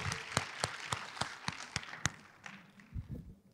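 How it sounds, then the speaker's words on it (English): A small audience gives a round of applause for the next speaker at a writing-tips talk. Sparse, evenly spaced claps sound fairly faint and thin, as if only a few people are clapping. "Let's give a round of applause."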